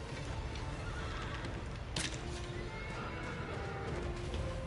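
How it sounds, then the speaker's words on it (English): A horse whinnies in the video game Shadow of the Colossus, one sharp neigh ringing out midway over a steady bed of game ambience and soft hoof clatter. "What are you doing, horse?"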